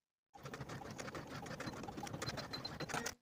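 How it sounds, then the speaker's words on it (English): A sewing machine stitches a tab onto a sleeve, a fast, steady mechanical whirr with rapid needle ticks that starts abruptly and runs for about three seconds, close and fairly quiet. "And then sew the tab to the sleeve along that line."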